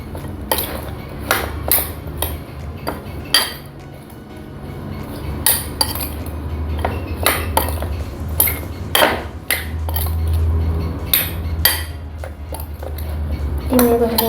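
Mango pickle is stirred with a spoon in a bowl, giving a run of close clinks and scrapes against the dish at an uneven pace, with a voice talking underneath at times.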